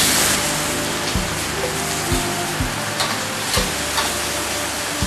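Food sizzling steadily in a pan with a little water added, a loud continuous crackle with a few soft knocks of a utensil, no talking, at a Thai village in Isan.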